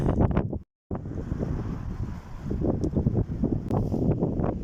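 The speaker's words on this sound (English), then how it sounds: "so just catching these like stupid gusts of wind that really wanting to throw you off your bike" Strong gusts of wind buffet the microphone on a windy bike ride, a loud continuous roaring rumble that surges and eases, broken by one brief dropout, with no talking.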